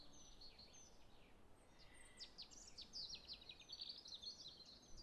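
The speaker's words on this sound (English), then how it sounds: "they've got like 3 or so different bird noises" Several short chirping bird calls from the Wingspan board game's digital version, faint and scattered over a steady low hiss, with thin high tweets repeating irregularly throughout.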